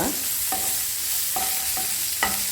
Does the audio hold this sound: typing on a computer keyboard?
no